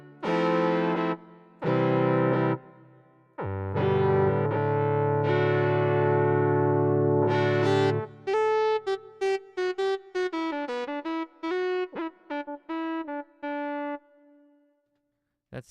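A Boss GM-800 guitar synth patch with the Space D chorus effect and light reverb: long sustained chords, then a run of plucked single notes that ring out and fade near the end.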